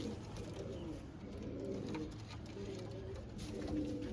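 Coos from a pigeon of the teddy breed, a low soft rolling murmur repeated steadily and close by, with no talk over it.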